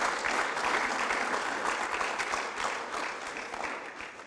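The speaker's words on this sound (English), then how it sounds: "Let us give another big, lofty round of applause for the PBC." An audience at a Presentation Brothers College panel discussion gives steady, fairly close applause, even dense clapping that continues throughout without talk.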